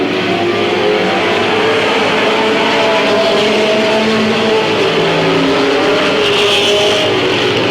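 Race cars at Midvale Speedway in 1995 roar continuously around the oval, a loud dense engine drone with cars revving and passing, no voices over it.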